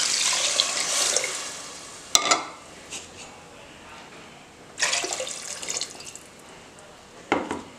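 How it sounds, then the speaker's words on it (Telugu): Water poured into a pot of basmati rice for vegetable pulao, with splashing bursts that start and stop several times and metal pot clatter between them. "నేను ఇందులో వాటర్ అనేది యాడ్ చేసేసుకుంటాను"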